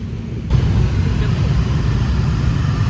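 Busy Bali road traffic of motorbikes and cars makes a steady, dense rumble of engines close by, swelling sharply after a brief quieter start and holding loud throughout; no talking is heard.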